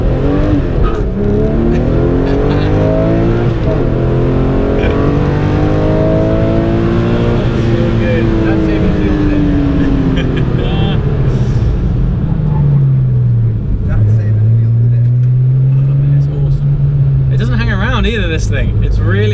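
Porsche GT3 RS sports car on a hot lap, its engine loud and close with rising and falling revs sweeping through gear changes, continuous throughout, with people talking over it.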